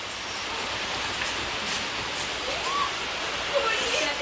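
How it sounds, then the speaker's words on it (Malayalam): Heavy rain pours down in a steady, even hiss that stays constant throughout, fairly soft and distant. "ഇവിടെ നല്ല പെരുമഴ പെയ്യുന്നുണ്ട്"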